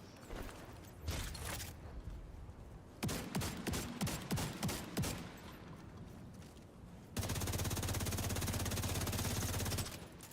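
Hostile artillery turret fire in The Division 2, with clusters of sharp gunfire bursts and mechanical firing noise, followed by a long, steady roaring barrage near the end, heard at a moderate distance.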